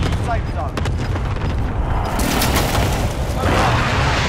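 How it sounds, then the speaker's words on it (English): Precision airstrike explosions roll out in Call of Duty: Modern Warfare, a dense rumble of booms and blasts close by, with players talking over the barrage. "I'm dropping a precision airstrike"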